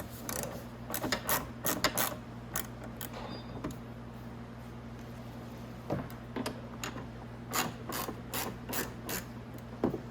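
A 10 mm socket wrench ratchets while loosening bolts on a Venom X22 125cc motorbike, giving close, crisp clusters of rapid clicks in short bursts with pauses, over a steady low background hum.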